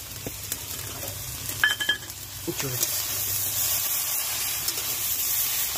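A shrimp and jackfruit mixture hits a hot pan and fries with a steady, moderate sizzle and hiss, broken by a few clinks and stirring sounds, while people talk quietly in a home kitchen.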